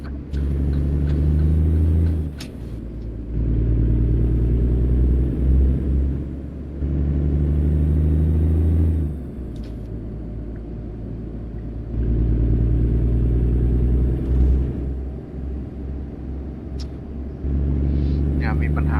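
A heavy truck engine in American Truck Simulator, hauling a load of lumber uphill and downhill in a convoy, rumbles loud and steady, surging and easing in repeated waves as it accelerates, with someone talking over it.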